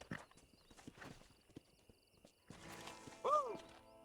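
A horse in Red Dead Redemption trots with sharp, spaced hoof clops, then a short burst of clatter and a brief, high whinny near the end.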